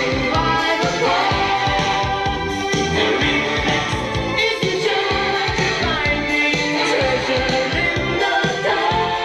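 Music plays steadily through a small aftermarket motorcycle radio on a Harley-Davidson, a full mix with beat and melody, moderately loud and continuous, without anyone talking over it.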